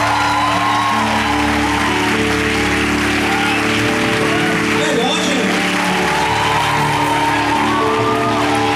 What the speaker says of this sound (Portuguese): vamos dar um aplauso para a maestrina também